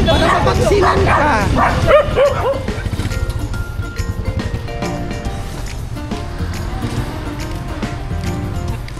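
During a rabies vaccination drive, a dog gives several sharp barks and yips, then whimpers and whines in uneven bursts. The dog is close and loud, and voices talk nearby.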